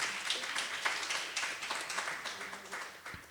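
Audience applause at a poetry cafe reading, a steady patter of clapping from a small crowd, fairly faint and without voices.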